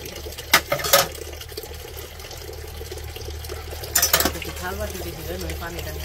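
Running water fills a bowl steadily from a tap to soak frozen chicken, with a few louder clattering bursts, while people talk faintly in the background.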